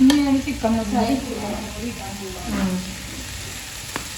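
Onions sizzle and fry in a pan with turmeric powder while a spoon stirs them in short scraping strokes, a steady close frying hiss under a voice speaking over it.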